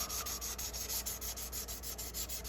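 Fine sandpaper scrubbing over the primer coat on a model race car kit body, quick even strokes repeating steadily, close and soft against a low background hum, no talking.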